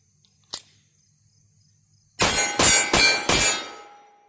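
A faint distant shot comes first, then a bullet strikes a 16-inch AR500 steel gong target, which gives four loud close metallic clangs in quick succession, the last ringing out and fading.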